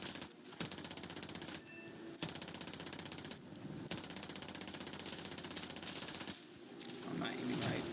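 Rear gunner of a biplane bomber firing a machine gun in War Thunder, rapid continuous bursts rattling over engine drone, loud and steady with brief pauses between strings of shots; a voice talks faintly underneath.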